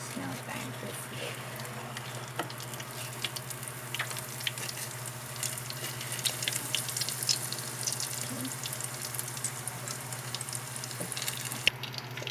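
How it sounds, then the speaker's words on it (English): A ham and cheese potato sandwich fries in a pan over medium heat, giving a soft, steady sizzling hiss with faint crackles and a low hum underneath, quiet and unbroken. "So let's fry it that way in a very medium heat until golden brown."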